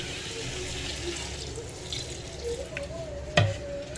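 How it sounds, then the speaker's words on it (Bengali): Water poured into a pot of potato curry with lightly fried potatoes, a soft steady trickle and wash running beneath faint room noise, ending with one brief clink near the close. "এবার জল দিয়ে দেবো পরিমাণ মতন।"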